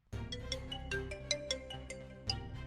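A phone ringtone plays a bright, melodic repeating tune, clear and close with nothing else over it.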